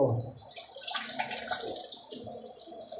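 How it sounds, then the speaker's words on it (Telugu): Fresh coriander rinsed under running water in a home kitchen: a soft splashing, trickling flow with light rustles as the leaves are handled, close and fairly quiet, no talk. "నెక్స్ట్ మనం కొత్తిమీర కడుక్కోవాలి"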